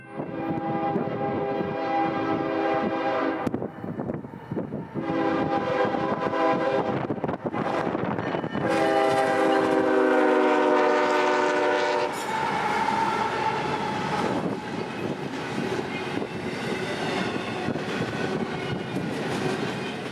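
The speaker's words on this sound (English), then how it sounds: "Coming out of Jacksonville would be IO26 with another 3-engine lash-up with container service" A freight train with a three-engine lash-up pulling container cars passes close by, sounding repeated loud horn blasts over a continuous rumble and clatter of wheels on rails.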